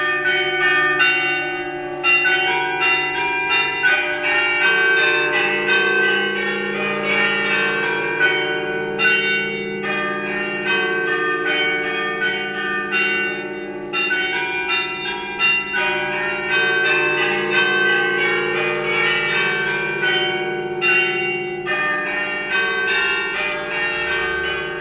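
Carillon bells in the tower of Saint Rumbold's, Mechelen, ring out in a steady melodic sequence, bright overlapping tones sustaining continuously with no voices.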